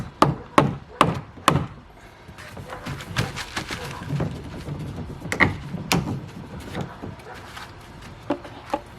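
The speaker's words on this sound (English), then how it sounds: "I always like carrying around a little rubber mallet. Make sure you take out all the pins." Sharp wooden-sounding knocks from a small rubber mallet driving pins out of homemade kayak stabilizer parts, several loud spaced strikes early then lighter irregular taps with handling clatter, no talk.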